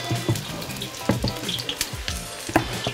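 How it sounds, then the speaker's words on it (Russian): Eggplant frying in oil in a pan, a busy crackling sizzle with scattered pops and scraping stirs, close and moderately loud throughout. "Хочется полентяничать, кинуть все вместе, но приходится обжаривать частями."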